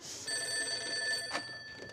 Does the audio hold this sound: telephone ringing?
yes